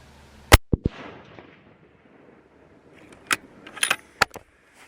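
A Tikka T3X rifle in .243 Win fitted with a muzzle brake fires once during an autumn rabbit hunt, a sharp loud crack followed by a couple of quick clicks and, later, scattered distant impacts and rattles outdoors.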